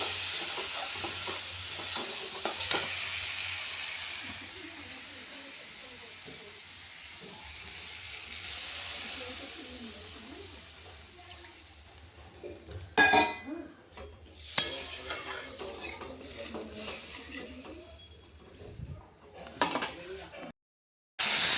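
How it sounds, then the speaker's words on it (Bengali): Beetroot, carrot and potato fry in a pan, a low steady sizzle and hiss heard up close, broken later by a few louder bursts of stirring and scraping against the pan. "বন্ধুরা এখানে বিট গাজর আর আলু ভাজা হচ্ছে"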